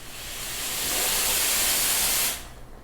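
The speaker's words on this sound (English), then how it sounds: "you can slowly bend back that steam lever so as to start slow and ramp your way up to full pressure" Steam wand of a Nuova Simonelli Oscar II espresso machine, lever ramped up to full pressure, gives a loud, steady close hiss that swells over the first second, holds, then cuts off abruptly near the end.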